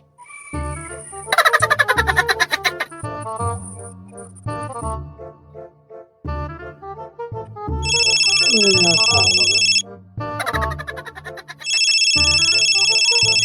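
An outgoing call's telephone ringtone sounds as repeated electronic tones in bursts, interrupted by short pauses, over a jumble of voices and background chatter from a nearby group.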